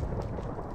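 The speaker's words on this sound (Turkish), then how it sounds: "Yıldırım çarptırıyor." Deep rumbling thunder from a lightning strike in a modded Minecraft survival game, a short heavy low roll heard alone without talk.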